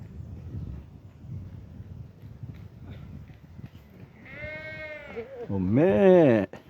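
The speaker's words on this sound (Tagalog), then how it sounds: "Yan mga karnero dito." Sheep at a park bleating in two loud, wavering calls near the end, following a stretch of background chatter and outdoor noise; people talk around them.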